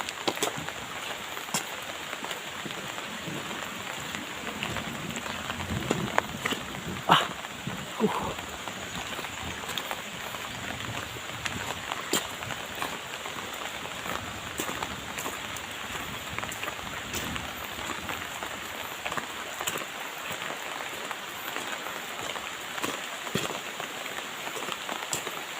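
Steady heavy rain patters on surfaces, a dense constant hiss with occasional louder drops and a faint voice in the background.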